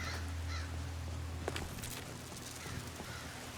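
Crows caw in a video game set in Skyrim's Morthal area, a few brief harsh calls rising over a steady low ambient game hum, fairly faint and mid-distance.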